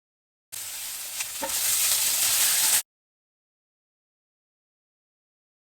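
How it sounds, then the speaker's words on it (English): Bacon sautés in a pan for a meaty pizza, giving a steady loud sizzle and hiss for about two seconds before cutting to silence. "Just saute the bacon a little bit and then set it aside."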